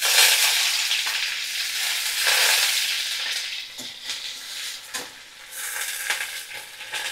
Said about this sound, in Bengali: তো এই তেলের মধ্যে দেখো আমি এবারে